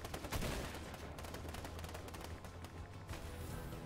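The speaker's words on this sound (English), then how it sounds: "They're shooting people!" Dense, continuous rapid gunfire from a video game, with overlapping bursts of shots filling the whole stretch at a steady, moderately loud level.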